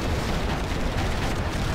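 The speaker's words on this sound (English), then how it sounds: "Whoa, big explosion." A large explosion in the WWI flight simulator Rise of Flight, a dense, loud, sustained roar of rumbling blast noise filling the whole short stretch without a break.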